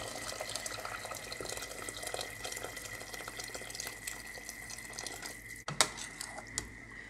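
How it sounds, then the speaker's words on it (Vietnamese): Boiling water pours steadily into a soup pot for Vietnamese sweet vegetable soup, a continuous close splashing stream that cuts off near the end, followed by a few faint clinks. "Mình sẽ cho nước sôi vào."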